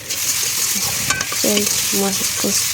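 Potatoes and plantains with turmeric sauté in a pan with a loud, close, continuous sizzle, broken by scraping stirring strokes, with no talk.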